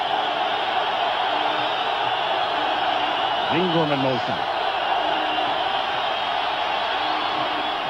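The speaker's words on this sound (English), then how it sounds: "Crowd exhorting the 49er defense." Stadium crowd at a 1989 NFL game between the New York Giants and San Francisco 49ers, roaring steadily to urge on the 49ers defense, a dense continuous wash of noise under a commentator's voice.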